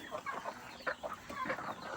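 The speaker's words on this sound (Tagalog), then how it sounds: "Ito yung tandang." Chickens cluck in short bursts close by, a rooster among them, with soft background noise and no talking.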